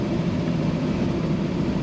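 A 1931 Pontiac Series 401 Fine Six engine idles with a steady, even low rumble and a constant hum, close and fairly loud throughout, with no talk.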